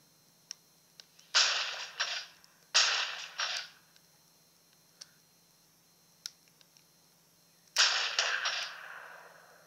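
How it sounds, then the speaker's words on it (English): Sniper rifle fire in the multiplayer shooter Resistance: Burning Skies: a few sharp, loud shots with short echoing tails, spaced seconds apart, with faint clicks and ticks in between. "I think this is the best sniper rifle in the game."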